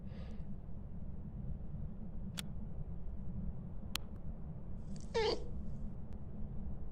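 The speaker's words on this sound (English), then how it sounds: "That's one of the cat noises." A cat meow Easter egg in the Phasmophobia ghost-hunting video game, a single short meow rising out of a steady low hum, preceded by two sharp ticks.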